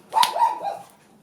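A single short dog bark rings out close by, a sharp yelp that trails off into a brief whine, alone against quiet.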